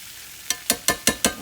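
Flour-dusted beef chunks browning in a stew pot, stirred in five sharp scraping strokes at a steady rhythm over a low background sizzle, close and clear with no talk.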